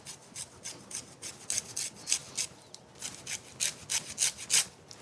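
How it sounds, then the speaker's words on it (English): Fresh lime zest is grated coarsely against a grater, a quiet, close, rhythmic rasping of quick strokes repeating about three per second. "I like to grate mine just a little bit coarser. Then you can really see the lime zest in the mixture."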